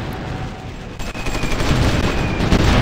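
Artillery fire in the war strategy game Supreme Ruler Ultimate, a dense continuous barrage of booming and crackling shots that swells louder toward the end, with no voices.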